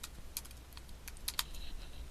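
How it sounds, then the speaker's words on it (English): A title is typed on a computer keyboard, a quiet, irregular series of light key clicks over about two seconds. "I could type my own title."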